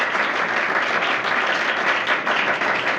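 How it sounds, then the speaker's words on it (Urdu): An audience at a Christian gathering claps in a steady, full round of applause that fills the whole short stretch without pause. "ان کے لیے بھی تالیاں بجائیں"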